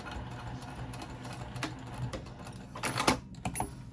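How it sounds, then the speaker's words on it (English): Sewing machine stitching across the overlapping vinyl edge of a patchwork bag, a steady close mechanical whir with short bursts of needle clatter and a louder run near the end, no voices. "we're going to stitch right over the ending there where there's a little bit of that overlap"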